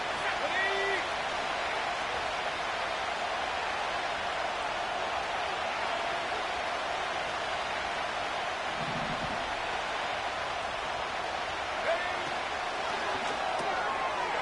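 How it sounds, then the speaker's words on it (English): A stadium crowd in the Madden 25 football game, Browns vs Falcons, holds a steady, dense roar throughout with no clear breaks. "This crowd into it now as we get to third down."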